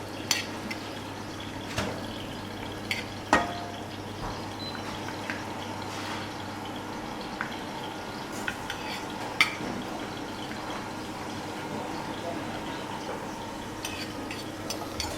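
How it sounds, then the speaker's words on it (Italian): Shallot browning in a pan with a few lemon leaves, with a low steady sizzle, occasional stirring scrapes and a few sharp clinks of utensil on pan, no voices. "lo scalogno si rosoli per bene"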